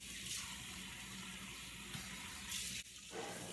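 Faucet water runs steadily over raw chicken in a kitchen sink, a close, even hissing gush with slight splashing shifts and a brief dip near the end, no voices.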